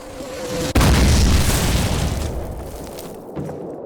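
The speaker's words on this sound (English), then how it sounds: "Mortars! Incoming! Mortars incoming!" A mortar shell explosion in the Call of Duty (2003) video game: one sudden loud boom with a deep, rumbling tail fading over a few seconds.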